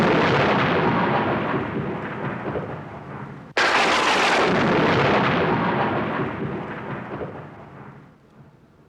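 A continuous, broad roar of thunder rolls through a thunderstorm, loud and dense, cut by one sharp crack a few seconds in that swells into a second long rumble before slowly fading.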